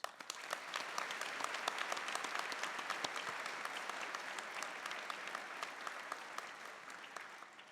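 An audience at SAIT's Spring 2026 convocation ceremony breaks into sustained applause, a dense, even roar of many hands clapping that holds steady for several seconds, heard from a distance in a large hall.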